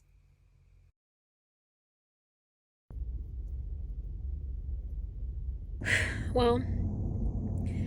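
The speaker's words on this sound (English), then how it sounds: "You'll have to excuse the road noise." Near silence gives way to a steady, low rumble of road traffic at a highway rest area. The dull droning noise continues throughout, and a person briefly speaks over it near the end.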